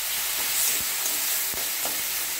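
Ginger, raw peanut, poppy seed and green chilli paste fries with tomato in a pan for paneer masala, giving a steady close sizzle with a few soft scrapes of stirring.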